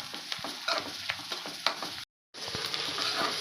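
Onions sizzle softly in a pan while a spoon stirs and taps against it, with a brief silent gap midway before the frying resumes.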